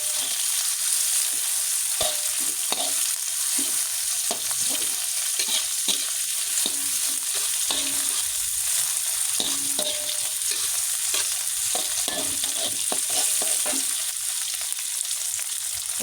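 Chili and tomato stir-fried in a pan for a kijing clam dish, giving a steady close sizzle with repeated scraping and clacking of a spatula throughout, no talking.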